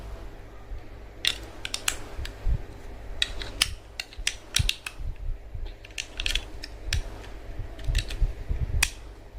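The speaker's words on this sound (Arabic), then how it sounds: "تمام، خلينا نركب الحجاير برضو اهي" Spark plugs being fitted with a hand tool, heard as a run of sharp, close mechanical clicks and ratcheting taps spread unevenly across the stretch, with no talking.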